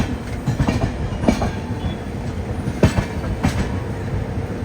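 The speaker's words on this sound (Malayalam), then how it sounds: "ജോലാർപേട്ട ജംഗ്ഷൻ റെയിൽവേ സ്റ്റേഷനിലേക്ക് ഇതാ നമ്മുടെ ട്രെയിൻ എത്തിക്കൊണ്ടിരിക്കുക" Kerala Express train rolling into Jolarpettai Junction railway station, a steady rumble of wheels with several sharp clanks and squeals over the tracks, heard from the platform without talk.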